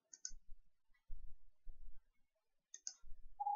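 Mouse clicks on a computer during software setup: two short, sharp, close clicks roughly two and a half seconds apart, with soft low thumps between them in an otherwise quiet room.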